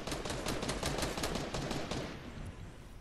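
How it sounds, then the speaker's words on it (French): A fast run of gunshots in the Fortnite video game, rapid evenly spaced cracks like a machine gun that continue for a couple of seconds, then fade out. "C'est où ce tir là?"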